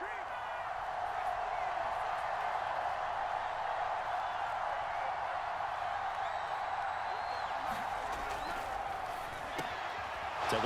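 A steady roar of stadium crowd noise from a Madden NFL 25 football game, loud and constant throughout with occasional sharp thuds, while a commentator talks over it.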